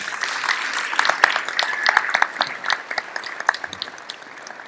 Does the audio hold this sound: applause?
yes